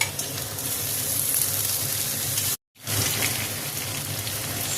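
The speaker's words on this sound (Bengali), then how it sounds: "এই শক্ত সবজিগুলো একটু ভাজা ভাজা হয়ে গেছে এবার বেগুনটা দিয়ে দেবো বেগুনটা দিয়ে একটু ভাজবো" Vegetables, including eggplant, sizzle loudly in hot oil with a constant crackling hiss, cut by a brief silent gap midway.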